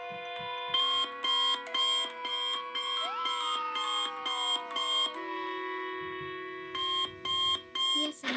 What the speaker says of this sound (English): That's how I check my alarm clock.